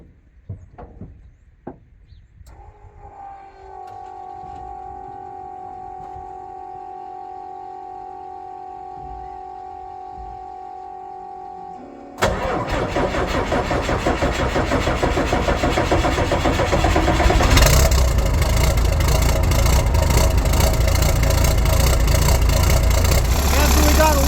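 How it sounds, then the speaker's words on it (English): A rollback tow truck with straight pipes cold starts: a few clicks, then a steady whine, then the engine catches with a sudden loud roar and settles into a rough, booming idle that grows louder, with talk partly under it. "people like cold starts and straight pipes, so let's fire this girl up"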